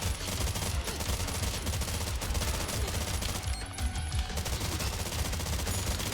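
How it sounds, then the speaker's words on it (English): Gunfire in the video game Terminator 2D No Fate, dense continuous automatic shooting with layered blasts that stays loud and unbroken throughout. "I guess this is one way to keep moving while you're shooting."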